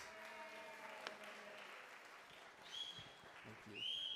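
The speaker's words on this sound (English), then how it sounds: "Can I get a special round of applause for all of the actors?" A congregation at a Shabbat service claps for the actors after a short play, thin scattered applause under a murmur of voices, with a few high tones and louder speech breaking through toward the end.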